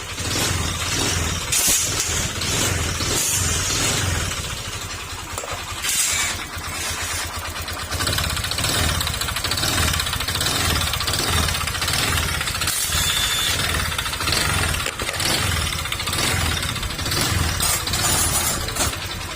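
A motorcycle engine idles roughly with a rapid, cricket-like clicking, knocking patter running through it, caused by low oil.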